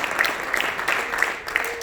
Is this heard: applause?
yes